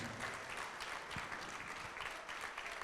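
Congregation applause during a Portuguese-language church service, a dense, steady roar of clapping sustained evenly throughout, with no clear speech over it.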